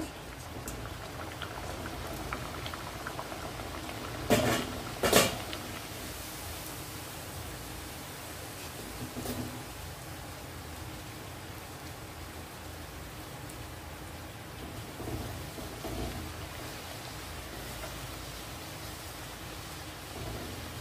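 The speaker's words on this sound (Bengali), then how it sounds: "এইভাবে আমি সবকটা লুচি ভেজে নেব" Palm-fruit luchi frying in hot oil, a soft steady bubbling hiss throughout with a couple of brief louder clatters near the start.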